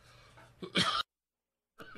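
A radio host coughs into the microphone on air, one sharp burst of close, rough coughs followed by a second of silence, then faint studio room sound returns.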